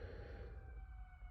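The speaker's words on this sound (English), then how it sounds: "Every time I want to film something, these sirens" Emergency vehicle sirens wail outside, steady rising and falling tones that are faint and distant over a low background rumble.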